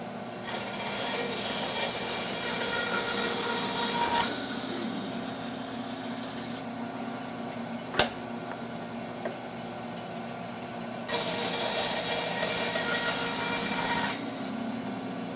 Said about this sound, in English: this piece of wood, it makes contact with the blade. And I'm using a wood slicer blade